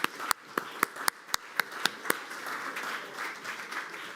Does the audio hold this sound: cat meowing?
no